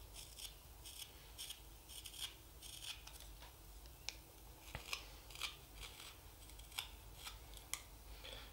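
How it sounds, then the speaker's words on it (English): Sharp knife shaving thin finishing cuts on a green wood spoon, a series of quiet dry scraping strokes and small ticks at an irregular pace, close and faint with no voices. "I'm moving the spoon rather than the knife for the most part"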